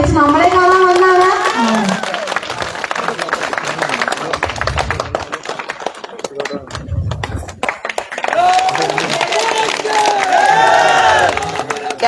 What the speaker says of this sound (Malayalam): പോരാ, കയ്യടി പോരാ